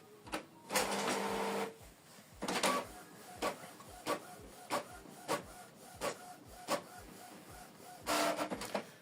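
A Canon wireless printer runs a black-and-white document, with several long feed-motor whirs and a regular series of sharp mechanical clicks and thumps in between, close and clear, with no talk.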